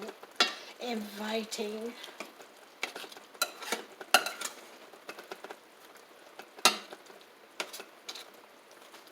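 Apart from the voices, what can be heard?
stirring pinto beans cooking in a pot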